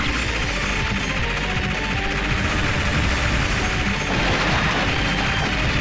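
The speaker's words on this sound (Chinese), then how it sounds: "这是 H 的子弹" Rapid heavy machine gun fire in the Metal Slug 5 arcade game, a dense continuous rattle of shots with crashing impacts layered over it, loud and unbroken throughout.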